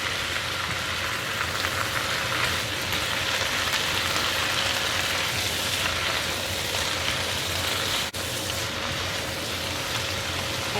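Vermicelli noodles, fried vegetarian style with dark soy sauce, are tossed in a hot pan, giving a steady close sizzle that hisses evenly throughout with no talking.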